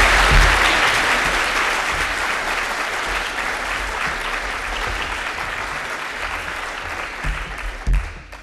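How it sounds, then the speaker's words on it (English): Dense, sustained audience applause fills a conference hall at the PyTexas keynote for a Python core contributor. It stays strong and steady, then thins slightly toward the end, with a brief louder swell just before it fades. "Let's give her a round of applause."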